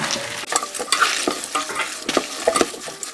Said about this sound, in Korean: 양파, 쪽파 넣어주세요. 휘리릭 둘러주시고 간을 한번 보세요.